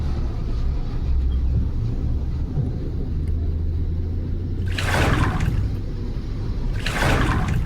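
Rainwater floods a lane beside a temple and runs like a river, a steady rushing, rumbling flow throughout, with two brief bursts of louder hissing splash near the end.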